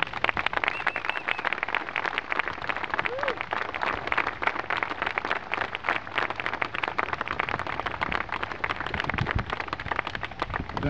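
A crowd at a Bay Area lawyers' rally supporting Pakistani lawyers applauds a speaker, dense sustained clapping throughout, loud and close, with a voice briefly audible underneath.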